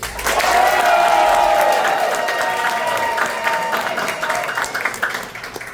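A big band audience bursts into loud applause in a voting round for a song, thick clapping with some crowd noise that peaks early and then slowly thins out.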